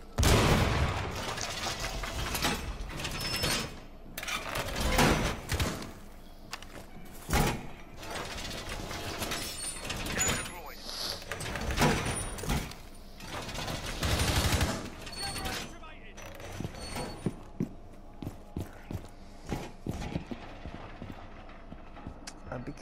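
Ying's light machine gun fires in Rainbow Six Siege, with loud bursts of rapid gunfire broken by short pauses and mechanical clatter, the sound growing sparser toward the end of the game sequence.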